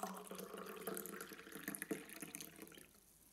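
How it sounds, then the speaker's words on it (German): Lukewarm water is poured from a tap over ground herbal powder in a cup, a continuous trickling splash that fades out toward the end. "mit lauwarmem Wasser übergießen"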